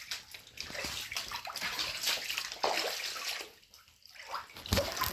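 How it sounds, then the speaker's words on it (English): Floodwater in a hurricane-flooded basement sloshes and splashes continuously, loud and close, with a brief quieter lull midway before the churning resumes. "Water everywhere."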